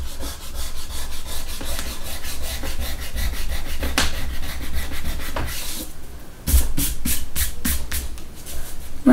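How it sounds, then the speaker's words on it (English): A pencil eraser rubs briskly across paper on a lion drawing, producing continuous scratchy back-and-forth strokes, close and fairly loud, ending in a few sharper distinct rubs. "So rub this one out."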